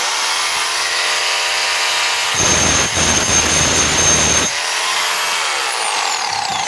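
A DeWalt D25033 rotary hammer runs in hammer mode, its loud, harsh pounding rattle lasting about two seconds before it stops, with a steady whine from the motor before and after.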